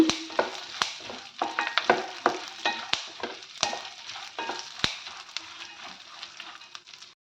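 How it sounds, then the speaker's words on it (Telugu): Ingredients fry in a pan over a low flame, a soft sizzle beneath repeated sharp scraping and clinking stirs from a spatula, close and uneven in rhythm, with no speech. "ఫ్లేమ్ సిమ్ పెట్టి ఫ్రై చేసుకోండి. బాగా ఫ్రై అవుతాయి."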